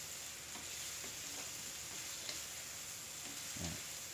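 Chicken feet are stirred in a pan with a faint, steady frying hiss, while soft scrapes and clinks of a spoon recur throughout, one slightly louder knock near the end.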